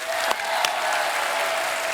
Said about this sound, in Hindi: सो जोरदार तालियां बनती हैं।